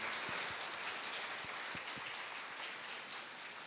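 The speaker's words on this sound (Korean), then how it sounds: "열강해 주신 최윤정 본부장님께 다시 한번 박수 부탁드립니다" An audience at a Korean-language educators' conference training session applauds a speaker, a soft, even wash of many hands clapping continuously at a distance with no talking.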